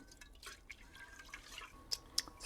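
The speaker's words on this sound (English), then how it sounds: "All I'm doing is kind of rubbing all of the rice grains together to try and get all the starch off of the grains." Rice grains are rubbed together by hand in water to wash off the starch in an off-grid cabin, producing quiet sloshing, drips and a few small clinks, faint and close, with no talking.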